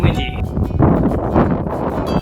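Strong gusts of wind buffet the microphone on a flat stretch of a Patagonia hiking trail in winter, a loud rumbling roar with a voice briefly heard underneath.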